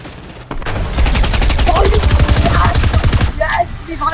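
Rapid automatic fire from a drum gun in the video game Fortnite, a loud sustained burst of shots lasting a few seconds, followed by a short pause and a brief second flurry.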